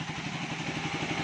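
A Raider 150 Fi motorcycle engine runs hot with a known fault of sputtering and stalling, giving a continuous, dense mid-pitched engine drone that stays close and fairly steady throughout.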